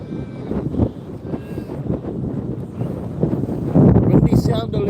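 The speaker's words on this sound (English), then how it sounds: "Windy sound alert." Gusty wind buffets an outdoor microphone on a sunny day, a continuous low rumble that thickens into heavier bursts near the end, with speech faintly mixed in.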